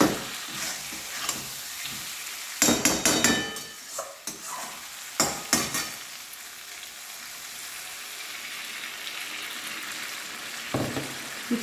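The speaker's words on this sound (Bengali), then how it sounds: "মিক্সি ধোয়া জলটা দিয়ে দিলাম" Blender rinse water poured into a hot pan of katla fish and potato curry sets off bursts of loud crackling and hissing, which settle into a softer steady sizzle with a few more spurts near the end.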